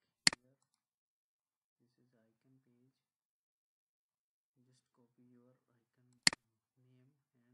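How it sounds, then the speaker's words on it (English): Two sharp, isolated computer mouse clicks, several seconds apart, with faint quiet speech murmuring in between. "If you want to use any icon, just click."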